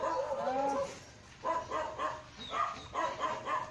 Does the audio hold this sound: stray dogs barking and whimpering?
yes